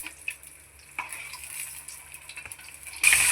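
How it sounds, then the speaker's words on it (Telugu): Dried fish dropped into a hot pan after eggs are lifted out gives a low, steady frying crackle with light scraping, building to a sharper, louder sizzle burst near the end. "ఇప్పుడు ఎండు చేపలు వేసుకుందాం గుడ్లు తీసేసుకొని."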